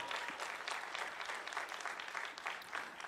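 At an 8th grade school graduation ceremony, an audience gives steady, dense applause, a continuous wash of many hands clapping at moderate distance without talk.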